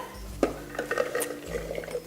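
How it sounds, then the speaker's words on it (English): Red kidney beans and lentils are tipped into a blender jar with a brief soft clatter and slosh. The sound is close and moderately loud. "I've got some red kidney beans and some lentils. I'm going to put them in the blender."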